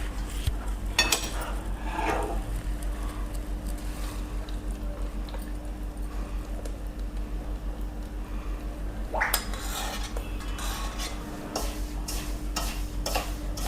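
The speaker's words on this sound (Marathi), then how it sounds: "हळूहळू पाक आणि तीळ असं मिक्स करून घ्यावं" A spatula works very hot jaggery syrup into sesame seeds in a wide pan for laddoos, giving a sticky, scraping stir with a low steady hum beneath and a few sharper clacks and scrapes, with no speech.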